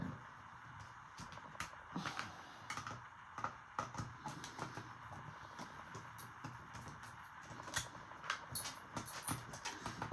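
Small screws being turned out of a Nintendo GameCube console shell, a quiet run of rapid ticking and faint scraping clicks close up, steady and continuous with no talking.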